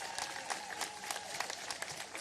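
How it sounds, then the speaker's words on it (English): Applause from a crowd at a Native American monument unveiling, dense and steady clapping that fills the whole stretch at moderate volume, with no voices standing out. "give yourselves a round of applause for being here"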